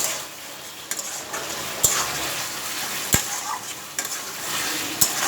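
Spice mixture with eggplant and a splash of water sizzling in a pan for a Bengali mourola fish dish, a bright steady fry with a few sharp knocks of the spoon as it is stirred, close with no talking.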